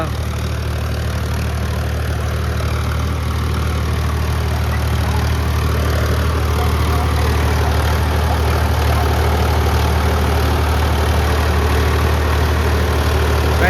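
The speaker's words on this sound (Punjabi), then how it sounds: "ਹਲੇ ਲੋ ਚ ਚੱਲਦਾ ਟਰੈਕਟਰ ਤਿੰਨ ਸਿਲੰਡਰ ਆ" A Preet 955 three-cylinder tractor engine runs at low revs, giving a steady, loud, close diesel drone with an even throb that holds unchanged throughout, with no talk.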